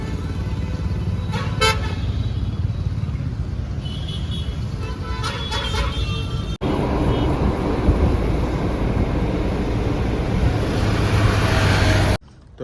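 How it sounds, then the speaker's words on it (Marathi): Traffic is jammed at Wakad bridge: a constant roar of engines and road noise, with several car horns tooting in short bursts, loud and near. "बघा मित्रांनो, वाकड ब्रिजच्या इथं फुल ट्रॅफिक जाम"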